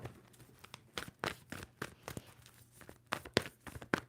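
Tarot card deck being shuffled in quick, soft riffling and slapping bursts, close and quiet with no talking.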